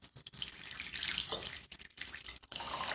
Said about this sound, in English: I'm just going to take a funnel and fill it up with just filtered water